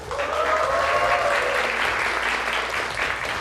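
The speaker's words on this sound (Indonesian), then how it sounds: "Tepuk tangannya boleh teman-teman." Studio audience applause on an Indonesian TV talk show, a steady, loud wash of clapping that sustains for several seconds with faint voices underneath.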